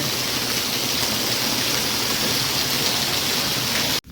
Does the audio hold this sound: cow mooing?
no